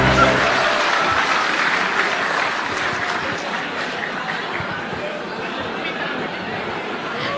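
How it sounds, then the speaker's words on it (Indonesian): A large audience at a PSI party congress in Indonesia claps together, loud and steady at first, then slowly thinning over several seconds amid crowd chatter. "tepuk tangan untuk kita semua"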